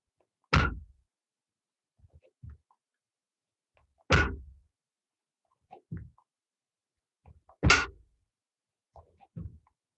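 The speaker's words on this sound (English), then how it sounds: "when that back foot lands nice and sharply, that's when the beat happens" Three sharp fencing blade beats in foil or sabre practice, each a crisp clash timed with the back foot landing, evenly spaced a few seconds apart, with softer footstep thuds between them in a quiet room.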